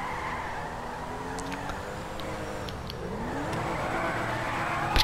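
Stolen car in GTA V driving steadily with engine revving, a continuous close motor drone with rising pitch toward the end and a brief tire scrape, no talking.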